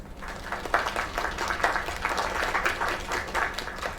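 A crowd claps and applauds after a singer's performance, a short, dense burst of clapping that stays fairly even throughout.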